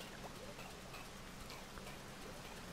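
Steady rainfall in the video game Rain World, a continuous hissing downpour with scattered drop patter filling the whole stretch.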